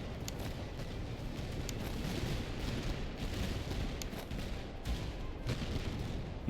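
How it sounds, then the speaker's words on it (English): Heavy, continuous battlefield gunfire and artillery booms from a military strategy game, a dense rumbling wash of shots and blasts with a few sharper reports standing out, sustained at moderate loudness throughout. "Yeah, start shooting at them."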